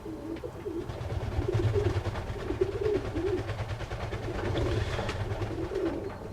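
Young doves cooing indoors ahead of a move to an outdoor aviary, soft repeated low coos in a steady rhythmic pattern, close and moderately loud, with faint background noise and no talking.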